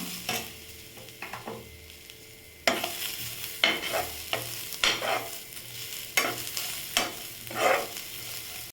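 Onions are sautéed and stirred in a pan until golden, starting as a quiet simmer before steady scraping strokes and bursts of sizzle repeat through the rest, with no voices.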